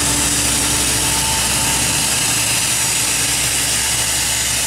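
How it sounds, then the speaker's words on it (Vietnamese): Air hisses steadily and loudly from inflatable launch rollers beneath a huge wooden boat being launched, a constant broad rush with a low engine rumble underneath and no talk. "Đó là xả pháo."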